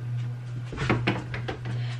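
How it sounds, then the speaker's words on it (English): A small plastic drawer slides and clatters as it is pulled out of a mini fridge, a short cluster of light knocks and scrapes over a steady low hum. "Take the little drawer out."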